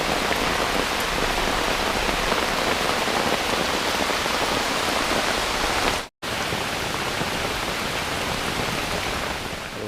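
Heavy rain pours down steadily in a jungle forest, a dense, loud, unbroken hiss with a very brief dropout partway through.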